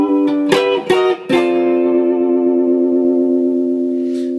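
A 1967 Teisco Jag-shape electric guitar rings out a few chords, then a sustained note wavers with gentle whammy-bar pitch vibrato under reverb, slowly fading.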